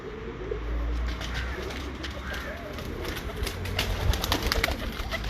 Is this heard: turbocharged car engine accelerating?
no